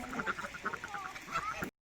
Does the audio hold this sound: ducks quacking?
yes